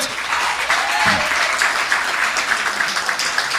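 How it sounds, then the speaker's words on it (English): Crowd applause at an outdoor political rally in Tunapuna, with steady dense clapping sustained for several seconds, loud and close. "Give her a round of applause tonight"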